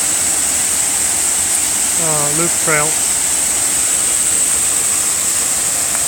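Twin waterfall on a wooded property, a steady, loud rushing hiss of falling water that runs without a break, with someone briefly talking over it.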